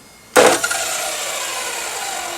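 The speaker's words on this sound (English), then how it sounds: "So you can use your chop saw like this, be careful." A chop saw cuts into the end of a PTFE hose to deburr it, a sudden close burst of harsh grinding that settles into a steady, fading whir.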